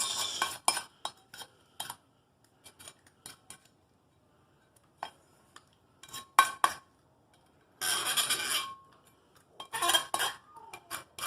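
A utility knife scrapes old sealant off a car differential's mating surface in short, sharp metallic scratches and clinks, close, with longer raspy strokes near the end and silent gaps between.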